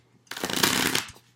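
Tarot cards riffle-shuffled in one brisk, close burst of crisp papery flutter lasting about a second, alone with no talking.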